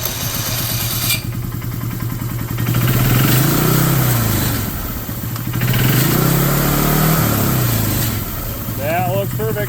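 A previously dead John Deere ATV starts and runs after primary clutch work, its engine note rising and falling in a few revving swells over a steady idle, loud and close, with a voice speaking briefly near the end.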